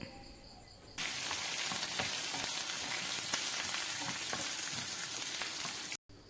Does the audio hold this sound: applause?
no